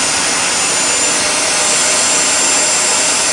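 A Bissell Spot Clean Professional portable carpet cleaner suctioning fabric, a loud, constant, broadband whooshing roar with a thin high whine running steadily throughout, close up and with no talk.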